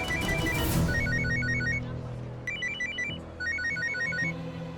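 A mobile phone rings with an incoming call in a Hindi TV drama scene. Its melodic electronic ringtone repeats in quick patterned phrases over a soft background bed.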